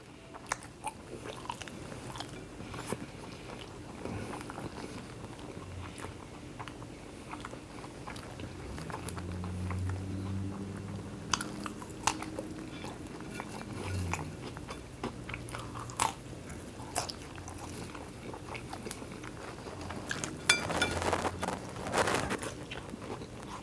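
Someone chews a bacon burger close up, with soft steady crunching and wet mastication sounds continuing throughout, no talking.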